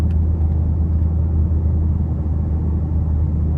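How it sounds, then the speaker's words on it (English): A supercharged V8 in a 2023 Dodge Charger Hellcat Widebody with a loud exhaust gives a steady, heavy low rumble at cruise, close and constant throughout with no talk over it. "you supercharge a V8, put a loud exhaust on there, and you're good to go"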